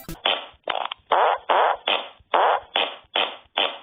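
Eight punchy fart sound effects from a phone tile-tapping game app, played in quick succession at a steady, slightly uneven rhythm with short gaps between them. Each burst is loud and close.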